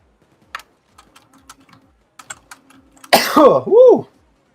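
A sharp, loud sneeze bursts out with a voiced, wavering tail, following a run of soft, scattered keyboard typing clicks during a PAYDAY 2 gaming session.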